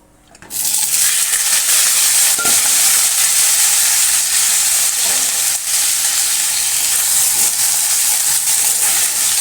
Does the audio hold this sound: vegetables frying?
yes